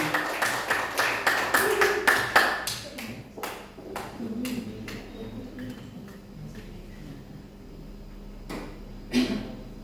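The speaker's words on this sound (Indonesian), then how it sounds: "Mari kita sambut Ibu Munawaroh SPD dengan memberikan aplaus yang meriah." An audience claps to welcome speaker Ibu Munawaroh at a school presentation. Brisk, steady clapping fills the first few seconds, then thins into scattered individual claps, with a short voice near the end.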